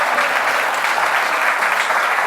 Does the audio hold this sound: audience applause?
yes